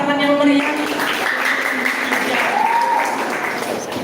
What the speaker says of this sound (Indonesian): Wah, sekali lagi beri tepuk tangan yang meriah.